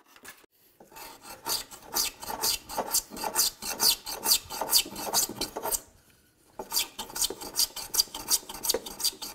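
A handsaw rasps through wood in quick, steady back-and-forth strokes while building a wooden dory, pausing briefly before resuming the rhythmic cutting, close and alone.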